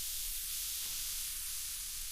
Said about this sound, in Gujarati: પ્રેશર કુકર દબાણનો ઉપયોગ કરીને ખોરાક ઝડપથી રાંધે છે.